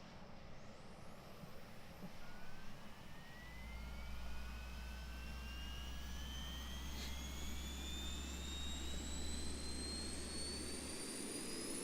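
Boeing 737-800 jet engines spooling up in X-Plane 12, a low rumbling roar that builds and swells, with rising whining tones climbing steadily over it, moderately loud and with no talk.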